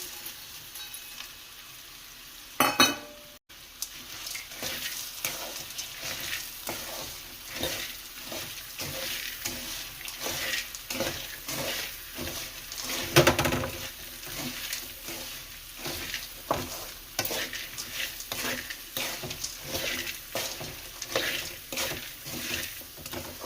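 Boondi and peanuts stirred in a hot pan for a spicy puffed-rice snack, a steady close scraping and sizzling patter with rhythmic stirring strokes throughout.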